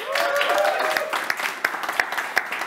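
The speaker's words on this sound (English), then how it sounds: "Give yourselves a round of applause, guys" A live TV studio audience claps at the start of a technology show, a busy burst of applause that thins to scattered sharp claps, with voices mixed in.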